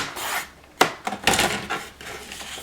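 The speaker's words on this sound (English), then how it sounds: "I'm going to cut off the ID tag" Scissors cut an ID tag off a sheet of patterned scrapbook paper in a few short, close snips and rasping slides, with sharp bursts near the middle.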